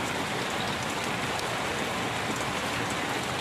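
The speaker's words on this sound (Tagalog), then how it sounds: "Lakas kasi na ulan, no?" Heavy rain pouring down in a rural farm setting, a dense, steady hiss of drops on surfaces filling the whole clip without let-up, close and loud, with no voices.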